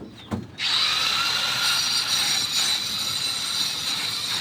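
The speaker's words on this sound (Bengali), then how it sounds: "মেশিন নিয়ে উপর দিকে উঠলাম গ্রুপ কাটার জন্য গ্রুপ কাটতেছি" A power tool cuts grooves into a wall for electrical wiring at a four-room building under construction, starting after a couple of knocks and then holding a loud, steady, high grinding whine up close.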